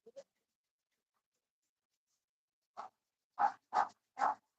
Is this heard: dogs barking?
yes